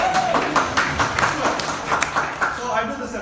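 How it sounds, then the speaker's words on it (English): A conference audience at a CEO's talk at Emerge Geelong claps in scattered, irregular bursts for a few seconds, moderately loud and fairly close, with voices mixed in. "Now clap if you think it's a celebration."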